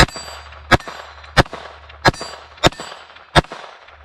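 A Sig Sauer P322 .22lr pistol fires five spaced shots at a small steel plate outdoors, each a sharp crack followed by a bright metallic ring, with quiet gaps between the hits.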